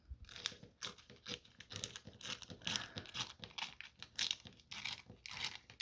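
Tracing paper is torn by hand into strips for ruffle trims, making a rapid, uneven run of dry, crisp ripping and crinkling sounds, close and fairly quiet, with no talk.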